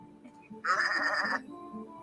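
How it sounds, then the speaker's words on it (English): Single short sheep bleat, bright and fairly close, lasting under a second over a quiet background of faint murmuring, in a scene with a flock of android sheep. "a flock of android sheep barred their way noisily into the reception area"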